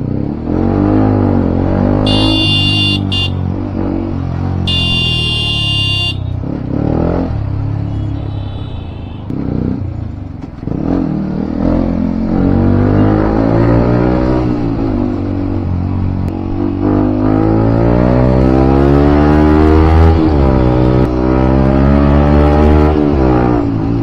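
Heavy road traffic in which cars and motorcycles rev and pass close by. Loud engine drone runs throughout, with short bursts of horn honking near the start.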